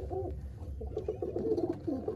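A Madrasi pigeon coos in low, soft, continuous warbling phrases, heard close and alone with no talking.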